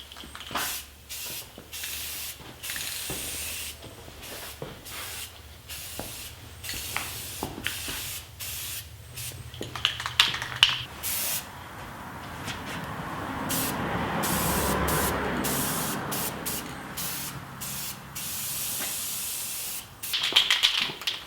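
Rust-Oleum gloss black spray paint hisses from an aerosol can onto bare metal in a series of short bursts, then one long sustained spray pass building to a steady loud hiss, with a final burst near the end.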